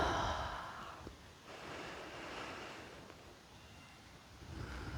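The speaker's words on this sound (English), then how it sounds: "We inhale and exhale. Inhale. Exhale." Slow, deep yoga breathing, a long soft exhale followed by a gentle inhale, close and breathy against a quiet background with some wind-like rush.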